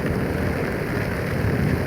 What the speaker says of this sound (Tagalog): Kung ganito kalakas yung ulan hanggang mamaya